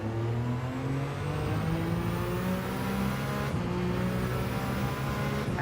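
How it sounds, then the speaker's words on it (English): Ferrari Gr.1 prototype race car in Gran Turismo 7 under hard acceleration, the engine note rising steadily through the gears with brief breaks at each shift, loud and alone. "It's the Ferrari that is the standout car on the noise."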